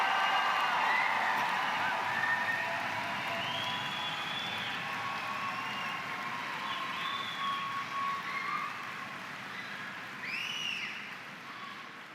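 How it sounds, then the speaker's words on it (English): A large crowd applauds graduates at a spring commencement ceremony, with sustained, fairly distant clapping and scattered cheers and whistles rising over the steady wash of hand noise. "Give them another round of applause."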